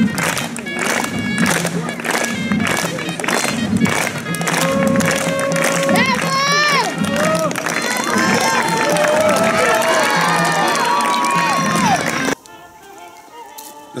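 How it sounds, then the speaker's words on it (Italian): An audience claps in time at a comic juggling and balancing show, crisp rhythmic hand claps repeating steadily under loud music with voices and whistles, ending abruptly. "qui di solito la gente inizia a battere le mani a tempo"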